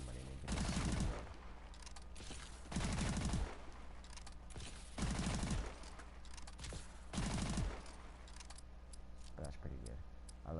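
Four heavy, booming shotgun blasts from the Call of Duty Advanced Warfare game, spaced roughly two seconds apart, each followed by mechanical clicking under a low background hum.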